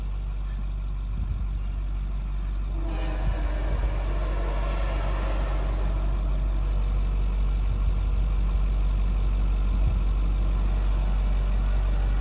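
A Ford 6.4L diesel engine with fuel in its oil idles after starting, not yet warmed up, giving a steady, low, continuous rumble with no talk over it.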